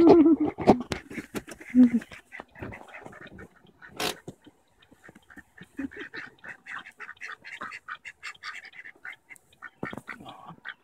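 Ducks quack in short, repeated bursts, moderately close, mixed with other bird calls and a voice talking now and then.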